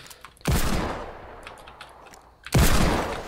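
Gunfire in a first-person shooter video game, two loud, close bursts of shots separated by a couple of seconds of quieter rumbling game ambience, no talk.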